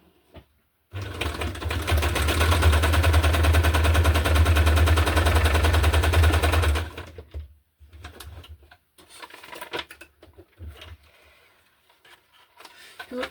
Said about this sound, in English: So I will use a zigzag stitch again to shut this